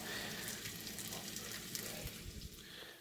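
Bacon frying in a pan crackles and spits quietly in a continuous patter, heard from a little distance, with no voices.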